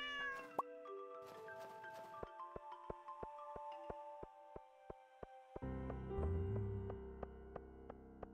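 A cat meows in the Stardew Valley farming game, its cries set against steady tapping game sound effects and rhythmic ticks, with no one talking.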